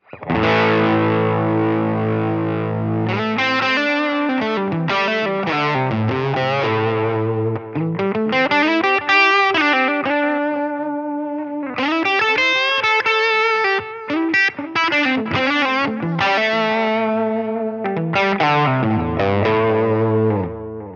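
Distorted electric guitar through Helix presets plays sustained notes and sliding chords, its tone shifting between heavy, chorused and effected sounds, continuous and loud.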